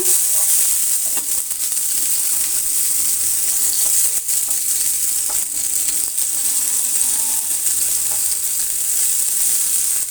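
Oil sizzles steadily on a very hot pan while thalipeeth, a Maharashtrian flatbread, is made, with a constant bright hiss throughout and a few faint clicks and stirring touches, no voices.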